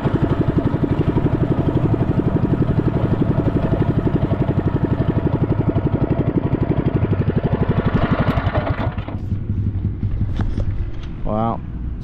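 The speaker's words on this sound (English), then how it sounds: "On the mini bike." A mini bike engine runs steadily with a throbbing, close-up drone at a race track's red clay oval, the note dipping near the end as other faint noises come through.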